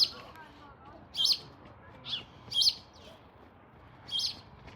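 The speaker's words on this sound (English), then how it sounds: "Birds are having fun in them." Birds chirping in a garden with old parsnips and vegetable beds, giving short high calls in four or five separate bursts over quiet outdoor background noise.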